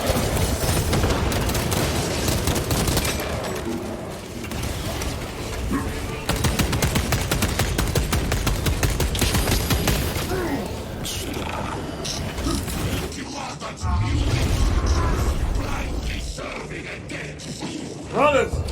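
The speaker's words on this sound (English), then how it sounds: "Frag grenade deployed!" Frag grenade blasts and sustained gunfire in Warhammer 40,000: Space Marine 2 rattle continuously amid loud battle noise, with voices shouting over the chaos throughout.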